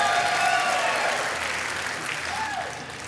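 A crowd at a live show with Reverend Billy C. Wirtz and Victor Wainwright applauds, and a cheer or whoop rises over the clapping as it slowly fades across three seconds.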